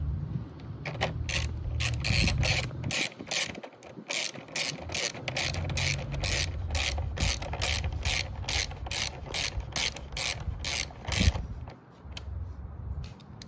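Ratchet with a 10mm socket driving the taillight mount bolts on a 2022+ Yamaha YZF-R7, heard as rapid, evenly spaced clicking strokes up close in two long runs, fairly quiet, with handling noise between and no talking.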